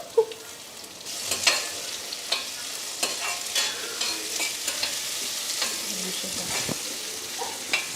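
Small onions sauté in sesame oil: a soft, steady sizzle runs throughout, punctuated by frequent light scrapes and taps as a spoon stirs them through the pan.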